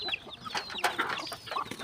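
Chickens on a small Thai family farm, where hens are kept for extra income and selected breeding hens are separated, cluck and squawk in a dense, busy chorus of overlapping calls close by, with no talking.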